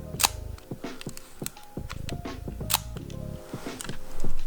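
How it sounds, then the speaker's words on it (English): A series of soft mechanical clicks from a Leica camera's quiet curtain shutter firing at 1/100 second, several sharp snaps spaced irregularly, close and quiet with faint handling noise between them. "this is my favorite and probably the most quiet curtain shutter that I have on any camera."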